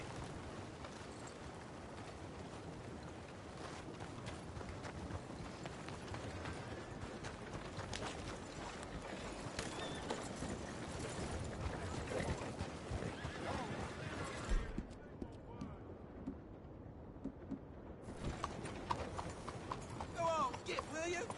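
Horses in Red Dead Redemption 2 whinny and neigh near a stable while hooves clip-clop, with a voice talking over the animal sounds and a brief quieter gap before the horse noise returns.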